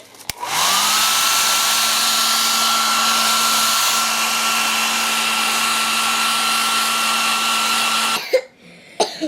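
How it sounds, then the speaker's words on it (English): A hair dryer spins up and blows with a loud, steady whine and rushing air for several seconds, then switches off, followed by a few faint knocks. "get my hairdryer."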